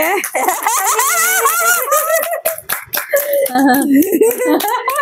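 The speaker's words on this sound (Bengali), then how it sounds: "হাততালি দাও, হাততালি মানে দাও।" Family members at a child's birthday party clap during a gift unboxing, quick hand claps scattered through loud, excited talking and laughter.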